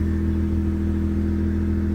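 Steady idle of a 1999 Mitsubishi 3000GT VR4 running on a fresh ChromeECU base map just after first startup, a close, constant low engine hum with no talk.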